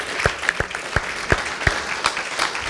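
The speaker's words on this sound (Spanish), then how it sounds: "strong applause to the Lord." A church congregation claps together in strong, evenly spaced rhythmic beats, loud and close, with a faint background hum between the claps.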